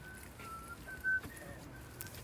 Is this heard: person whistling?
yes